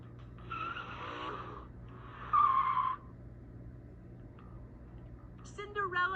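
A fancy sports car speeds off with a tire squeal as a puppet theater sound effect, giving a loud skidding screech with engine rush for a couple of seconds, followed by a quieter stretch.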